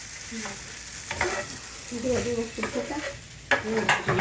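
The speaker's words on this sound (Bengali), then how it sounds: "এক দুই চামচ ঘি দিলাম এটাকে ভালো করে নাড়লে এটা তৈরি হয়ে গেলে এটাকে ঠান্ডা করবে" Food sizzles in ghee in a home pan while a utensil stirs and scrapes through it in uneven strokes, close up and moderately loud, with a few sharper clinks near the end.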